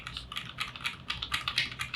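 Typing on a KBD75v3 mechanical keyboard with Durock 65g linear switches gives a quick, even run of soft clacky keystrokes, close and fairly quiet, with no voices.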